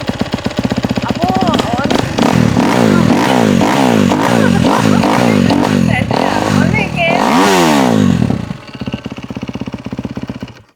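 Racing motorcycle engine revving loudly and close, with repeated rising and falling throttle blips for about eight seconds before dropping to a rough idle, with voices faintly underneath.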